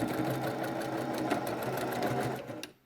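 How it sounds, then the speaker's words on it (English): A sewing machine stitches a nose bar into a fabric mask, its motor running at a steady close whir for nearly three seconds before it abruptly stops. "That nose bar has been sewn in."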